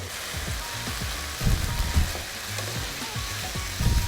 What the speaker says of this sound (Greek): Όσο πιο δυνατά σοτάρετε το κρέας σας μέσα στο ελαιόλαδο